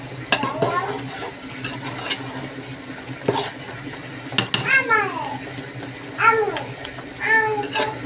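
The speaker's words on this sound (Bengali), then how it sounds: "আর কড়াইটাকে ভালোভাবে নেড়ে চেড়ে" Biryani masala is stirred in a kadai, with repeated scraping strokes of a spatula over a low sizzle and brief, chirpy voice sounds between strokes.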